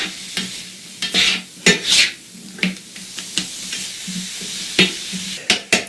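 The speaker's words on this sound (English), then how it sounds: "While that's sauteing a little bit" Onions and vegetables sauté in a pan, a soft continuous sizzle broken by regular scraping stirs of a spoon across the pan surface, close and fairly loud.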